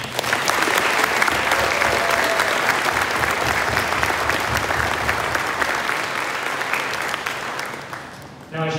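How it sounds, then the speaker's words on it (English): Sustained applause from a graduation ceremony audience at Gimli High School, a dense, steady wash of clapping that holds loud for most of its length before tapering briefly near the end. "can you confirm by applauding them?"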